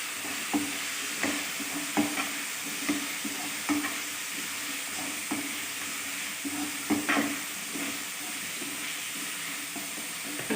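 Turkey berries frying in hot oil in a pan, stirred with a spoon that scrapes and knocks at irregular intervals over a steady bright sizzle, close up and with no speech.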